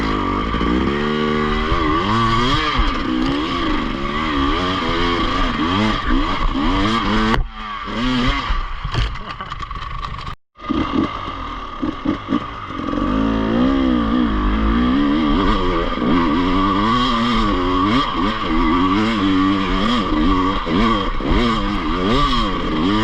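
An enduro motorcycle revs and rides off, its engine rising and falling in loud, close revving sweeps, briefly cutting out before roaring back up and pulling away.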